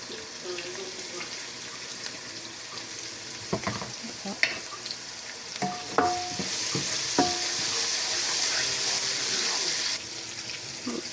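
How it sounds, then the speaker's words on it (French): Beef browning in a pot for a beef curry, a steady sizzle of frying with scattered clinks of a utensil stirring, the hiss growing louder and fuller partway through. "ça peut dorer ici la viande directement"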